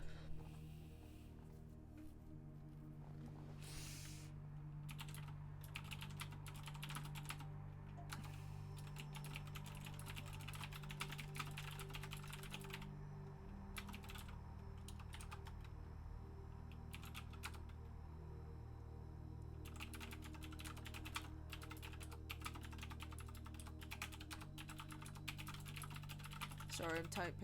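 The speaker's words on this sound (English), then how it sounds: "Sorry, I'm typing." Rapid clicking of computer keys comes in bursts with short pauses, close and steady over a low constant hum.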